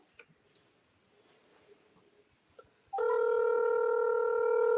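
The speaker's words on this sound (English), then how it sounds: "I'm gonna call her on the phone." A steady telephone dial tone switches on abruptly after a few seconds of faint room noise and then holds loud and unbroken for a phone call.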